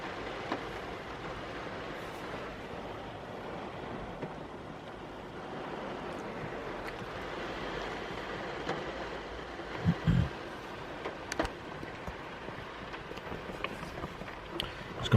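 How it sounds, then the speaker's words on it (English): Heavy rain pours down as a dense, continuous wash of noise, steady and moderately loud throughout, with a few brief knocks and thumps close by. "And just look how heavy it's raining now."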